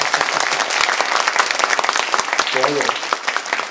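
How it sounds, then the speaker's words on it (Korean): A studio audience at a public broadcast recording claps in a dense, lively burst, with a voice briefly speaking over the applause partway through. "우리 해주실 분들만 박수 한번 부탁드립니다."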